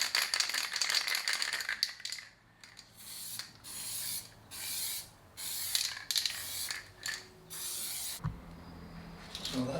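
Primer is sprayed from an aerosol can onto motorcycle trailer parts in repeated short hissing bursts, each a couple of seconds long with brief pauses and can rattles between them, close and steady.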